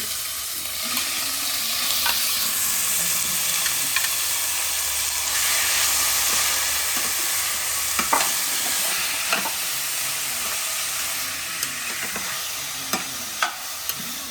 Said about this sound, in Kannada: ಇದು ಚೆನ್ನಾಗಿ ಗೋಲ್ಡನ್ ಬ್ರೌನ್ ಆಗೋವರೆಗೂ ನಾವು ಇದನ್ನು ಕದಡಿಸ್ಬೇಕು